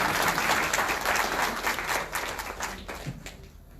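An inauguration audience gives a big round of applause for a visiting vaccine-research professor; loud, dense clapping fills the room, then thins and fades toward the end as the crowd settles.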